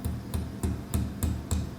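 A hammer strikes a metal scroll worked partly off the edge of an anvil while forging a troll cross, giving six evenly spaced, ringing blows at a quick, steady rhythm.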